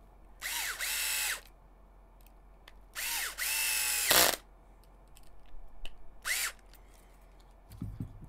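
A power drill drives 3x10 screws into an HPI Venture RC car kit in four short, close whirring bursts: two longer runs followed by a brief one, with small clicks between them.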